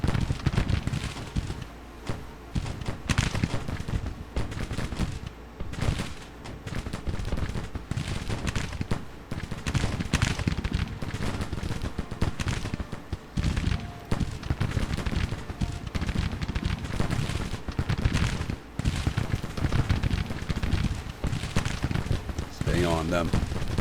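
Brigade rifle volleys crackle at short range in a Civil War strategy game set on the Virginia front, dense and continuous with overlapping booming shots throughout, while a voice talks over the battle.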